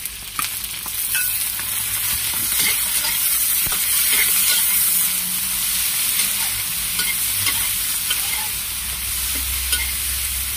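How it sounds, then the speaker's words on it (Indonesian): Clam meat stir-fried in a hot pan, a loud continuous sizzle over about ten seconds with frequent scraping and clicking from a spoon tossing the pieces. "Lalu kita masukkan daging kerang."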